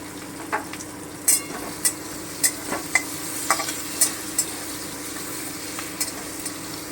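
Capsicum and tomato fry with green chili and pepper in a pan, giving a continuous close sizzle. Sharp stirring clicks and scrapes land every half second or so.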